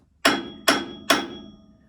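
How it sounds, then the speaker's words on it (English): A hammer strikes a car's steel roll bar three times at an even pace, each hit a sharp, loud metallic ding that rings briefly before the next blow, with no talking. "you can tell a car is halfway decent or stressed, whatever the case may be, with just a hammer and a roll bar"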